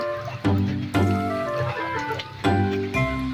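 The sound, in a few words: chicken clucking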